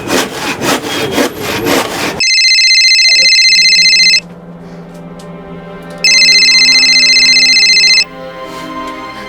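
A telephone rings loudly in a crime drama scene, giving two long electronic ring bursts separated by a quieter pause. A short burst of noisy rustling comes just before the first ring.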